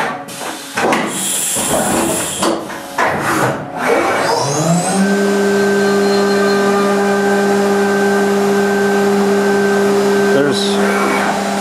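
A CNC milling machine cuts without coolant, starting with bursts of noise before a steady, loud, whining tone with sustained harmonics holds for several seconds, close and alone.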